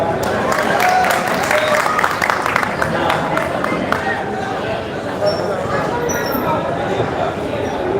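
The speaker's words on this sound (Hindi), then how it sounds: "तालियां बजा के बताओ एक बार।" At a Hindi poetry gathering, an audience bursts into steady, dense applause, many hands clapping at once in a loud sustained patter, with some chatter mixed in underneath.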